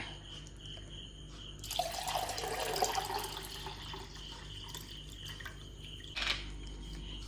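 Water pours and splashes into a bowl for a few seconds, then trickles and drips, with a short clatter near the end.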